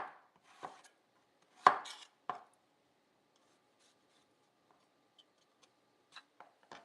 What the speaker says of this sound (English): I have a mango I probably need to cut up and get it ready to be juiced as well